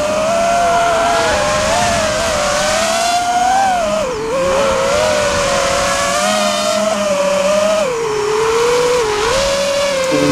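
Small RC aircraft electric motor with a 5x4 propeller, throttled on and off in flight, giving a loud, continuous high-pitched whine that rises and falls in pitch with each throttle change.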